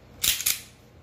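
A Ruger Max-9 pistol fitted with a Galloway Precision trigger is dry-fired, giving two sharp, close mechanical clicks about a quarter second apart, each followed by brief silence.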